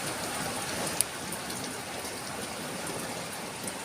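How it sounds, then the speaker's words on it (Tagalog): Steady rain falling after intense heat, pattering on surfaces, an even hiss with occasional louder drops, no voices. "Umulan siya after ng super init"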